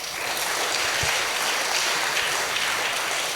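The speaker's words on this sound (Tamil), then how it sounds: "கைத்தட்டுங்க பாப்போம்." Steady, even applause from a church congregation during a Tamil Catholic sermon, a continuous wash of clapping heard at moderate distance with no talking over it.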